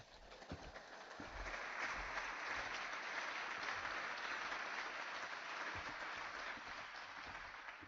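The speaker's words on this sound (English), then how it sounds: "Let's give these students a round of applause." Sustained audience applause at a high school commencement ceremony honouring graduating students, a dense wash of many hands clapping at steady volume for several seconds with faint crowd noise mixed in.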